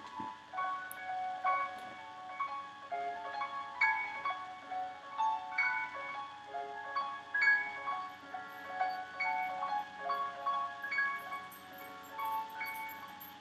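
Franz Liszt's Hungarian Rhapsody No. 2 plays on its own on piano, a bright, steady stream of ringing notes and chords with no talking.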